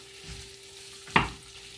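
Chopped broccoli hits hot oil with chili, curry leaves and cumin, giving a soft background sizzle and then one sharp, loud burst of frying that slowly fades.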